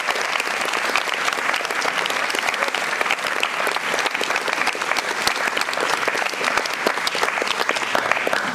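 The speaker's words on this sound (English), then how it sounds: "Can we give them a round of applause" Sustained, loud applause from a school audience for student debaters, dense clapping filling the room steadily from start to finish with no talk over it.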